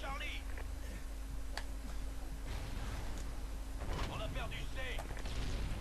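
Gunfire in Call of Duty: Ghosts comes as scattered distant shots and explosive booms under constant battlefield noise. Someone speaks French over the firing.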